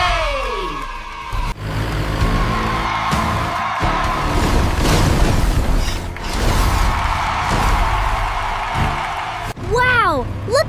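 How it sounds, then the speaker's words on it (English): A cartoon cement mixer transforms into a giant robot with a long run of mechanical clanks, creaks and whirring servos, loud and busy throughout, ending in sweeping synthetic whooshes, with a narrating voice over parts of it. "The cement mixer is here to help. And look, it's transforming into a powerful robot."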